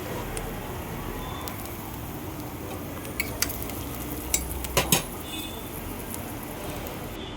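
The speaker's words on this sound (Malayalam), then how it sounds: "ഇതൊക്കെ ചേർത്ത് നന്നായിട്ടൊന്ന് വഴറ്റി കൊടുക്കണം." Small onions, shallots, green chili and ginger with a pinch of salt sauté in a pan for a Kerala sardine curry, a soft continuous sizzle broken by a few sharp spoon clinks against the pan.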